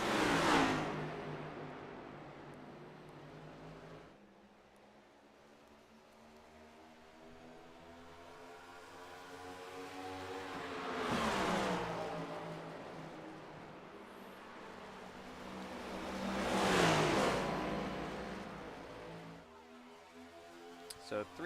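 NASCAR stock cars racing in the iRacing simulator during a Preseason Thunder event roar past in a three-wide pack down the front straightaway, engines swelling loud in several passes and fading between them under continuous commentary.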